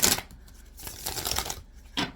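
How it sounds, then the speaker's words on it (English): A deck of tarot cards is shuffled by hand in quick riffling bursts, three short crisp flurries separated by brief pauses, close and alone. "let's go ahead and let's just shuffle one more time"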